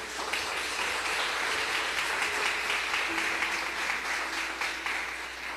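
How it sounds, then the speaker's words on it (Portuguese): A church congregation claps together in sustained, steady applause filling the whole stretch, dense and fairly close, with no voices standing out. "Você pode aplaudir isso?"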